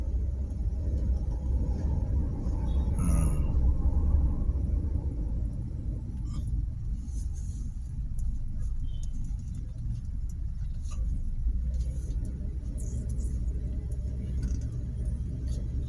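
Low rumble of car engines in slow, congested traffic at an airport parking exit, heard from inside a vehicle, a steady idling drone with occasional light clicks and faint higher sounds.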